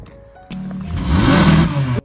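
A car accelerates as a friend races it, with the engine swelling from a low hum into a louder revving roar before cutting off abruptly. No one speaks.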